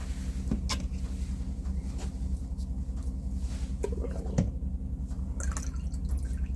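Water drips while a Dead Air Sandman suppressor is rinsed in a small container. Several soft, irregular drips fall over a steady low background hum.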